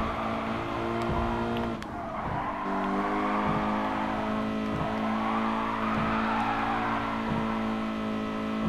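Tires squeal as a car power-slides in the Gran Turismo Sport video game, a Toyota 86 GT Limited racing on the Tokyo Expressway, with a sustained engine drone and steady skid noise throughout, no talking.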